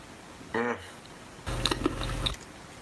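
Crunchy Taco Bell Chalupa Supreme being chewed close to the mic in one short burst of crisp bites, preceded by a brief voiced murmur.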